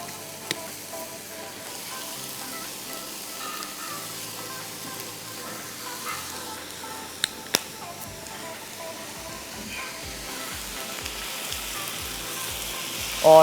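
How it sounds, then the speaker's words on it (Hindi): Rice sizzles in a pan as it is stir-fried with vinegar and soy sauce, a steady close hiss of frying with a few sharp clicks from the utensil and no voices. "और आप इसको अच्छी तरह स्टर फ्राई करिए। आपको शर शर शर की आवाज़ आ रही होगी"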